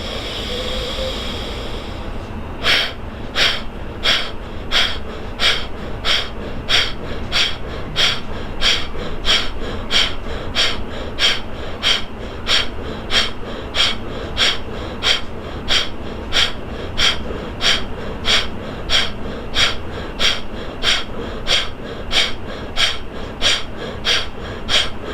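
Forceful rhythmic exhalations during pranayama breathing practice, short sharp puffs through the nose repeating steadily about once a second after a brief lead-in, close and loud.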